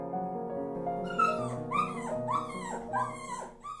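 A cartoon dog in an animated fairy-tale film gives a run of yips, whimpers and short barks, close and fairly loud, over a sustained musical score.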